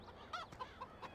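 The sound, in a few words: chickens clucking in video game Farming Simulator 17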